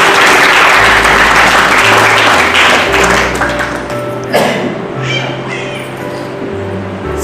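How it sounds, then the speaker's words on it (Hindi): A congregation applauding together at a church service glorifying the Lord, dense loud clapping that fills the room and slowly thins and softens, with a low musical drone underneath. "तो ताली बजाकर प्रभु को महिमा तो दो।"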